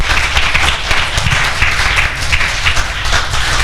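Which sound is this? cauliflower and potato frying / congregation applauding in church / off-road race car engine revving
congregation applauding in church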